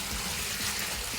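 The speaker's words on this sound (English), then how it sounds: "Nothing special about the water, it's straight from the tap" Tap water rushes in a steady, dense stream for mixing clay plaster, filling a container close by with no pauses.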